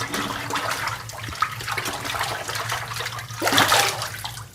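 Water rinses a brass wind instrument during a chemical cleaning process, a steady close rush of running water that swells louder near the end, with no talk.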